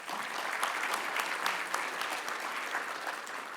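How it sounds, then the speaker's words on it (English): Audience applause at a Latino Leaders Network tribute to mayors, honoring two council members: steady, even clapping from a crowd, fairly faint and distant, sustained throughout without a break. "so please give them a round of applause"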